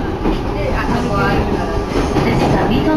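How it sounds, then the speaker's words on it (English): A Mito Line train rolling between stations on its way to Oyama, heard from inside the car as a steady, loud rumble of wheels and running noise that continues throughout without a break. "This is a Mito Line train for Oyama."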